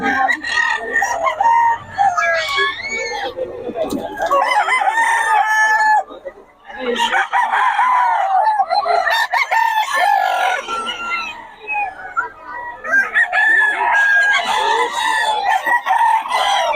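A Lemon Sweater gamecock crows loudly and repeatedly at a rainy roadside market, each long crow separated by brief pauses, with clucking and faint chatter in the background.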